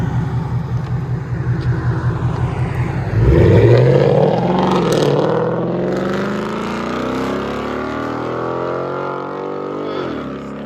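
A 2015 Ford Mustang GT with a 5.0L V8 and a dual straight-pipe exhaust with an X-pipe and muffler delete idles with a loud, lumpy burble, then revs sharply and roars before settling back to a rough, throaty idle, up close.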